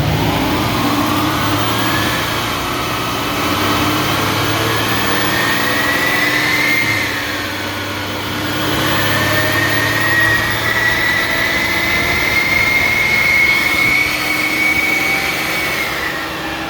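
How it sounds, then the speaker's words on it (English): Mercedes GLE 63, a 2017 example with 65k km, revving under load with a steady mid-pitched engine drone that rises and falls in long sweeps, loud and close, with no talk over it. "Put some load on the engine."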